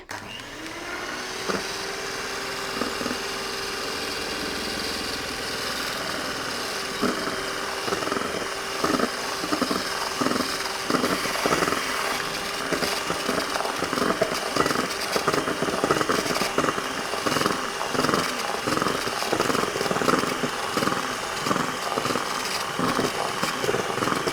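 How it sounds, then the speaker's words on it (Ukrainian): An electric hand mixer whips an agar-set marshmallow (zephyr) mixture in a bowl, a steady close whirring motor drone with rapid rattling beats of the beaters against the bowl, running continuously without talk. "Збиваємо, збиваємо, збиваємо."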